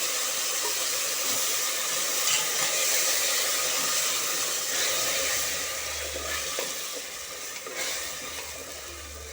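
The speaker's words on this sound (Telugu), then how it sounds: "నేను ఈ టమాటా ప్యూర్ వేసేస్తాను" Tomato puree sizzles in a hot pan with a loud, steady hiss that eases slightly toward the end.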